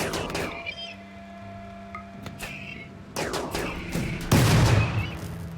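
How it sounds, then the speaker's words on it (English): In RimWorld a pikeman fires from long range, giving scattered, muffled shots and impacts over a busy background of game tones and hum, with heavier bursts near the end. "we still have a pikeman shooting us long range"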